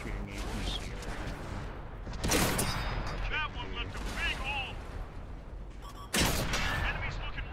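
High-explosive shells fired by tanks, including British Bulldogs, in a tank video game play as heavy blasts and rumbling booms, two of them especially loud, beneath ongoing talk and game sounds.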